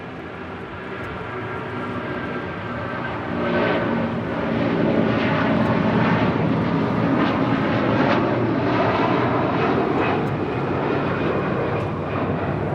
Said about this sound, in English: A330-300 now rolling down 25 right.